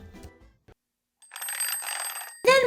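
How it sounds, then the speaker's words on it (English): A telephone rings once with a bright, sustained electronic tone after a short silence, loud and close, ending with a sharp clatter as it cuts off. "Then one day, I got a phone call."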